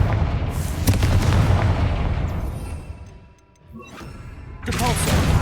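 A Confringo fire spell blasting in Hogwarts Legacy, a loud booming explosive roar that fades to a lull before another burst flares up at the end.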